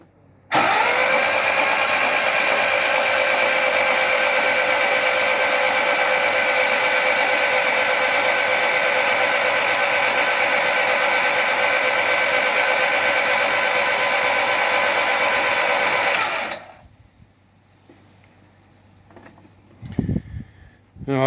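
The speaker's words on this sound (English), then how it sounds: "I'll give it another crank now and see how we look." Vauxhall Firenza fitted with a Lotus engine cranking over on its starter motor, a loud steady whirring drone running unbroken for about fifteen seconds before cutting off to near silence with a couple of faint clunks.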